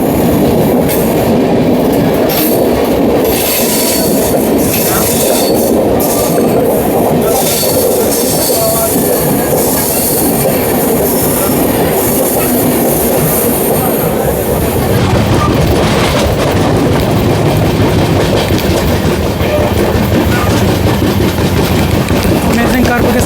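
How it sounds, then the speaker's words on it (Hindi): Amrit Bharat Express train rounding a curve on the approach to a platform near New Delhi, its wheels rumbling and clacking loudly with squealing steel and a continuous roar, shifting as the cars pass. "अमेजिंग कर्व के साथ हमारी अमृत भारत एक्सप्रेस कर्व लेती हुई प्लेटफॉर्म आ गया।"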